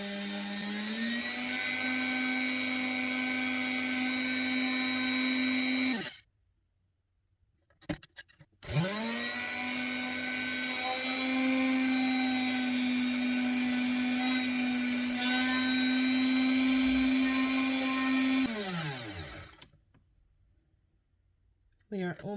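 A small drill bores slowly through a crystal bead for a handmade necklace, a steady high whine that runs for several seconds, stops briefly, then resumes at length before cutting out again.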